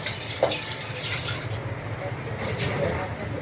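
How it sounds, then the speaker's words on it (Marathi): Water from cooked rice pours and splashes steadily through a strainer close by, a continuous rushing stream that swells and eases slightly. "तांदळातलं ना आपण पाणी काढून घेऊया"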